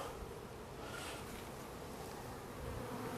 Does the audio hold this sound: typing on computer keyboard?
no